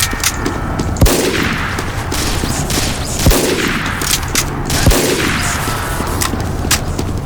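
SMG gunfire in a video game, with dense continuous rapid bursts punctuated by a few louder, sharper shots. It is loud and close, with no talking.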